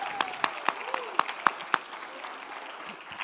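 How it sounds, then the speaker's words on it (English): An awards gala audience claps through a round of applause, a soft bed of scattered clapping punctuated by several sharp, evenly spaced louder claps near the microphone, fading toward the end. "Give yourselves a round of applause,"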